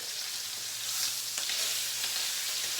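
Chicken thighs seasoned with salt and pepper sizzle loudly in a hot pan right after being flipped with tongs, a steady close frying hiss with a few faint crackles and no voices.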